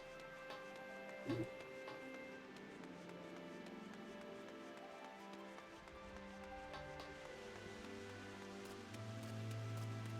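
Soft rain patters steadily in a Final Fantasy game scene, faint and continuous beneath layered music and a few scattered taps.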